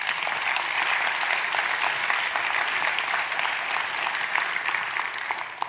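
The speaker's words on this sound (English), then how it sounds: "can we give them a preemptive round of applause?" A steady round of applause from an audience at an education celebration event, dense and continuous throughout, slowly easing near the end.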